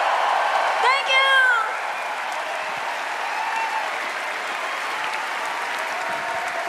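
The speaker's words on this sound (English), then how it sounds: "Please give another big round of applause for this incredible cast." Audience applause fills a concert arena, a steady roar of clapping with a brief voice and a whistle near the start.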